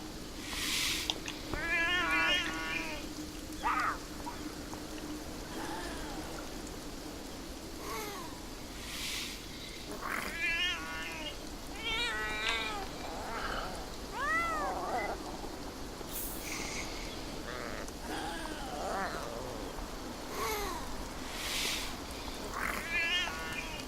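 Several cats meow and yowl in the video game Beyond Eyes, with repeated drawn-out cries scattered across a steady ambient background, some louder and closer, others fainter.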